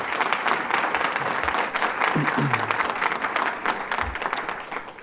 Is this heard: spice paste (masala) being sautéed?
no